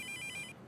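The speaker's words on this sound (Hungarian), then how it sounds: "Nem akarod felvenni a telefont?" Telephone ringing in a cartoon home, a short electronic ringtone with rapid repeated pulses that stop partway through, moderately close and alone without talk.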